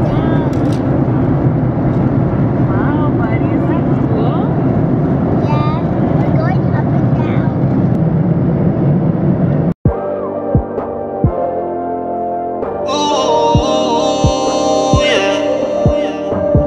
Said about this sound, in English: we're going on the airplane